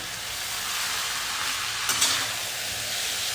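Boiled veg hakka noodles toss and fry in a hot pan over a lowered flame, giving a continuous broad sizzling hiss with a couple of brief scraping clatters midway.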